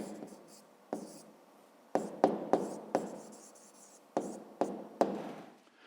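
Pen scratching on paper in quick bursts of strokes while working a fifth-grade math exercise, close and fairly quiet, with short pauses between marks.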